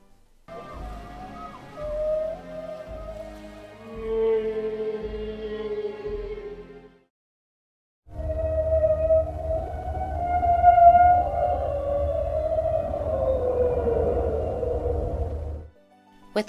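Eerie, whale-like singing from a mysterious video-game Pokémon, long sliding tonal calls with a droning, reverberant low bed, two extended phrases separated by a brief silence.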